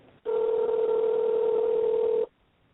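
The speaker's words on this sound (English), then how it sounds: "she takes out her phone and makes a call" One long steady telephone ringback tone on an outgoing call, a single sustained buzzing beep lasting about two seconds, loud and alone, then quiet.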